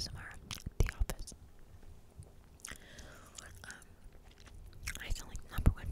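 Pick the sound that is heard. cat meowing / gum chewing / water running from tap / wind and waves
gum chewing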